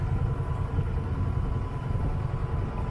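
Boat engine running on a cruise along the Corsican coast, a constant low mechanical drone with steady vibration and no break, fairly close and moderately loud.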